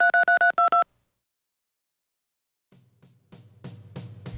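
Telephone keypad dialing, a quick string of five or six touch-tone beeps, followed by silence and then faint, rising clunks and clicks as the line connects.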